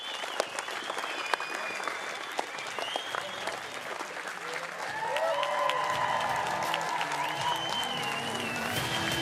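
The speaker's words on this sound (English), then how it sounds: "So if you just give them a round of applause." Applause from a press conference audience for a sailing team at a regatta in Auckland, a steady spread of clapping that swells a little louder partway through and holds on.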